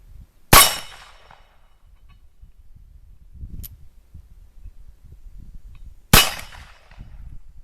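Two sharp, loud gunshots from a Cimarron 1858 Remington revolver converted to .45 Colt, fired about five and a half seconds apart, each with a short decaying tail over quiet background.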